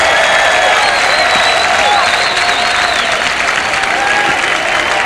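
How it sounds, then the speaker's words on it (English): A large stadium crowd at a 1991 men's lacrosse quarterfinal between Syracuse and Michigan State rises in a standing ovation, steady dense applause with scattered cheers and whistles filling the air for several seconds without letup. "A standing ovation from the crowd."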